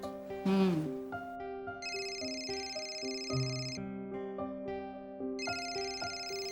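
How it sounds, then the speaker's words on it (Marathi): A mobile phone rings with an incoming call, playing a melodic electronic ringtone of repeated chiming notes that continues in phrases, fairly quiet, with a brief voice near the start. "घे, सौरभचा फोन आहे."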